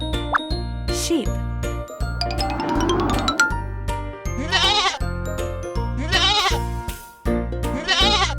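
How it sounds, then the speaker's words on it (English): Sheep bleat in three wavering cries over a cheerful children's tune with plopping and tinkling effects, the bleats loud and close in the mix. "Sheep."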